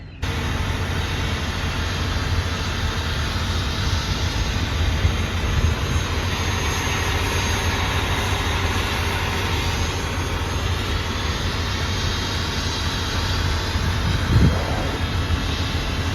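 A steady, low farm tractor engine drone runs throughout, idling or running nearby with constant rumble and no speech.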